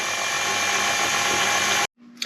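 Bread machine kneading stottie cake dough, a loud steady whirring and grinding motor drone close up that cuts off abruptly, followed by a faint hum and a brief knock.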